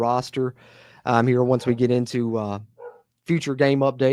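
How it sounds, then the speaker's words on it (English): A dog barks outdoors, distant and partly masked, while someone talks close to the microphone almost the whole time. "Pardon my dog barking outside if the mic's picking that up."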